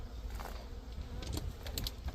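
Honeybees buzzing close by in a backyard hive setting, a faint continuous low hum with a few brief higher passes, no talking.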